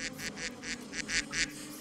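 Duck quack sound effect: seven evenly spaced, nasal quacks in a quick steady rhythm, clear and close with nothing else over them.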